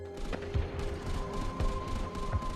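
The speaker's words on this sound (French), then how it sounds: "Et puis, les canons anti-aériens ont ouvert le feu." Anti-aircraft guns firing during a wartime air raid over Los Angeles, a ragged series of distant booms and thuds spaced irregularly over a low background rumble.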